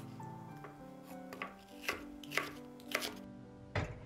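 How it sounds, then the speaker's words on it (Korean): A knife chops an onion into large pieces on a cutting board in several separate, fairly regular strikes, close and clear against a quiet background. "양파도 큼직하게 잘라주세요."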